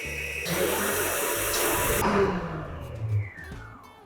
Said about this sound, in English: So we're just starting on a slow speed just to combine the egg whites